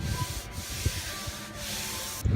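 Hand blocking body filler on a damaged car panel with 80-grit paper, a steady close scratchy rasp of repeated short strokes with brief pauses between passes.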